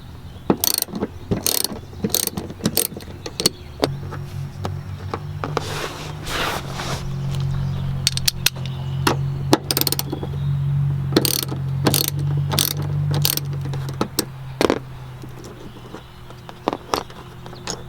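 Ratcheting and clicking from hand tools as tie-down anchors are unbolted and removed from an FJ Cruiser, with sharp repeated clicks and a steady mechanical hum running underneath for much of the time, close and fairly loud.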